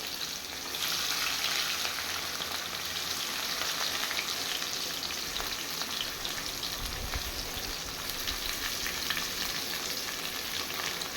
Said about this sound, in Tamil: இப்போ நம்ம இந்த வெங்காயத்தையும் இதுலேயே சேர்த்துருவோம்